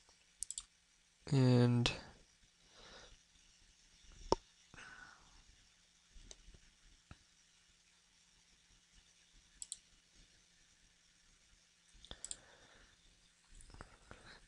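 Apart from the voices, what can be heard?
computer mouse clicking to download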